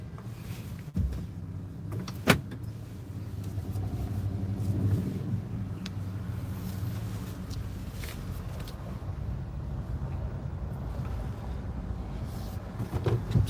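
A car driving along a road, with a steady low engine and road rumble throughout, one sharp knock early on and a faint interior rattle now and then.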